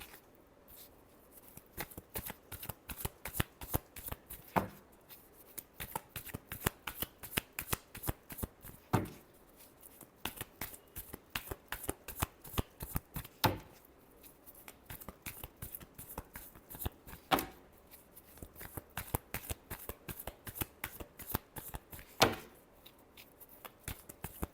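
Tarot cards being shuffled by hand, close and quiet, in repeated bursts of rapid riffling flutters with short pauses between, with no talking.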